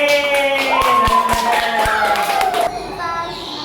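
Children in a classroom clap for their group in a few sharp, rhythmic claps under a sustained tone and a voice, close and loud.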